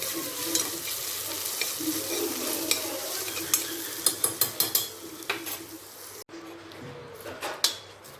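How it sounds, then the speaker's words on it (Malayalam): Onions fry and sizzle steadily in a pan at home, with scraping stir strokes and a few utensil clicks on top, fairly close and without talk. "നമ്മുടെ സവാള ഇതിലിരുന്ന് മൂത്തുകൊണ്ടിരിക്കുന്നു"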